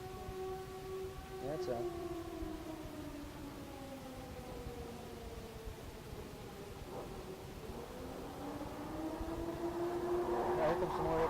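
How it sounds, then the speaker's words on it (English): A siren wails with a long, steady rising and falling tone that holds through the whole stretch over a constant rumbling background, while a voice speaks briefly over it. "Can you hear the siren?"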